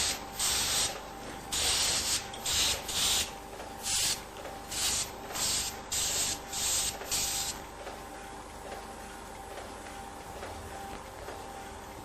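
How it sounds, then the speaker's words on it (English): Compressed air blasts at a press filter to dry it, in a series of loud, close hissing bursts with short gaps between them, followed by a softer continuous hiss. "The use of compressed air is one way of achieving this."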